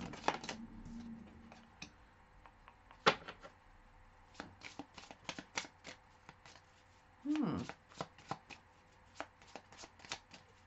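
Tarot cards shuffled by hand in quick, soft snapping taps and flutters, close and quiet, with a brief low murmur partway through.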